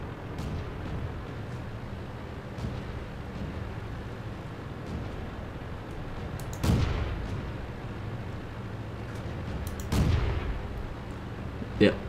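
Two booming tank cannon shots ring out in the World of Tanks video game, each a sharp blast with a rumbling tail, over a steady low engine drone.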